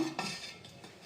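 A knife strikes a cutting board while a teasel gourd is chopped into small pieces: one sharp clack, then softer scraping and tapping in a quiet kitchen.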